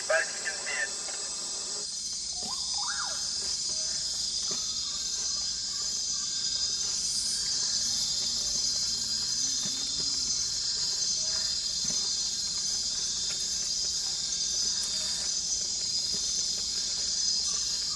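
Night insects and crickets in the Amazon rainforest keep up a dense, high, steady chirring drone throughout, with scattered nearer chirps and clicks and faint low sounds beneath.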